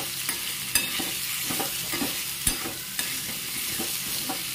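Mango pieces fry in oil seasoned with asafoetida, a soft steady sizzle broken by occasional sharp pops and clicks of a spoon against the pan, with nobody speaking.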